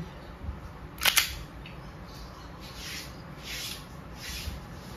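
A WE 1911 MEU full metal gas blowback airsoft pistol fires once, giving a quick double snap of slide and gas release, close and crisp, followed by soft handling noises in a quiet room.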